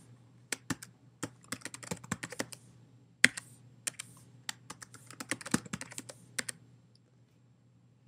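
Someone types a password on a computer keyboard in quick irregular bursts of soft, close key clicks over a faint low hum, pausing briefly mid-entry and stopping near the end.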